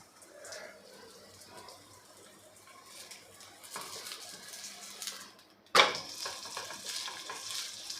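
A poha thalipeeth fries quietly in a pan of oil, then a sudden hiss marks the flip and the louder sizzle carries on close-up and steady.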